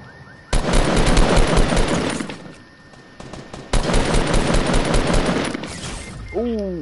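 Gunfire in a video game: two long bursts of rapid automatic fire, loud and close, separated by a short lull, ending with a rising electronic tone.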